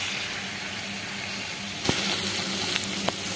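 Boiled dal lentils tipped into a hot frying pan of snail curry cooked the Adivasi way, a steady close sizzle broken by a sudden splashy burst and a couple of sharper crackles.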